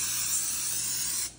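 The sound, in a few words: Pam cooking spray sprayed onto a silicone muffin tin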